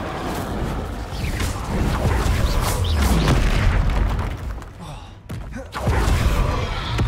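Spell blasts in Hogwarts Legacy, fire and explosion effects from combat against a troll, rumble and boom loudly in overlapping bursts with a sharp crack near the end, while a player calls out spell names over the noise.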